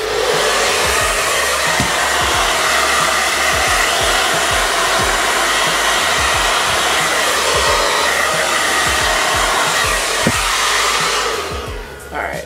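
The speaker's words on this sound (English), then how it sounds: "Take this nozzle off because my old blow dryer that always executed this process perfectly for me did not have it." A blow dryer runs on type 4 natural hair with its nozzle removed, making a loud, steady, close rushing whoosh for about twelve seconds before it cuts off at the end.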